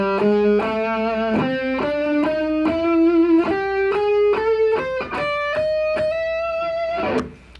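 Guitar runs up an extended pentatonic scale, one clean sustained note after another in a steady ascending sequence, close and upfront, played alone without talk.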